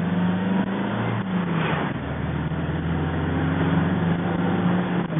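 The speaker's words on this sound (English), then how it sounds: "see if you can hear me over the wind noise. It's quite a lot, with the windows open and the sunroof." Wind rushes through an MGB GT driving along a country road with its windows and sunroof open, a loud, constant roar over the steady drone of the engine from inside the car.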